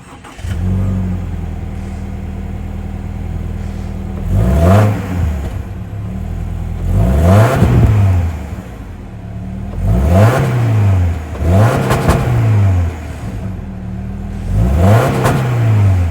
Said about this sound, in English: that was the sound of the 2-liter boxer 4-cylinder sold by Subaru for the 2024 Crosstrek